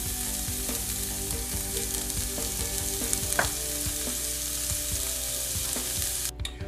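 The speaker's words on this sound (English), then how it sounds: "we're going to use the Canadian bacon. Let's caramelize that a little bit. And let's put the hickory smoked bacon in." Canadian bacon and hickory smoked bacon frying in a hot pan with tomatoes, a steady bright sizzle with small pops and occasional utensil scrapes, close and continuous with no talk.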